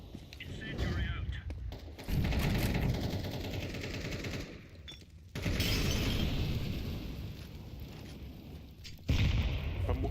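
Video game combat with bursts of rapid gunfire and booming grenade blasts, loud and dense, separated by brief lulls, with voices heard faintly beneath the action.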